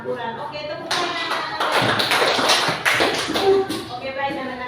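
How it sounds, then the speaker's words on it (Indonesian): Students in a language class clap their hands together in a loud, busy burst lasting several seconds, with a teacher's and children's voices around it. "Oke, tepuk tangan."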